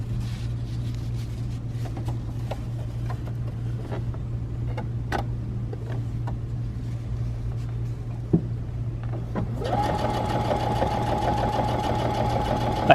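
A Baby Lock Presto II sewing machine stitches through four stacked fabric layers about an eighth of an inch thick; after a low idle hum with scattered clicks, the motor starts and runs at a steady, loud, even whir.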